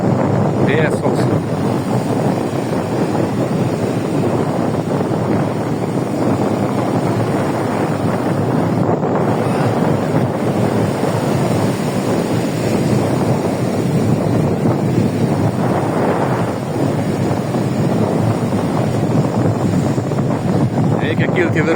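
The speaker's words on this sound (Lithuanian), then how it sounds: "Vėjas koks." Strong wind buffets the microphone at a Latvian seashore with huge waves, a steady loud roar of gusts and surf mixed together throughout, with no clear talk over it.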